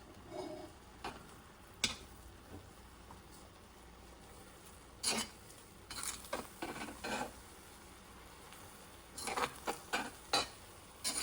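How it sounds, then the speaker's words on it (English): Fried rice with Japanese barbecue sauce is stirred in a pot, with soft scattered scraping and clinking strokes over a faint sizzle, fairly quiet and irregular. "So I'm using the Japanese barbecue sauce. And give that a stir."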